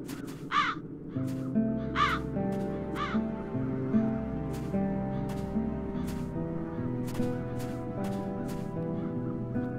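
Several harsh crows caw in short repeated bursts from the fantasy adventure game The Dark Eye: Chains of Satinav, ringing out over a steady ambient music bed with layered low drones.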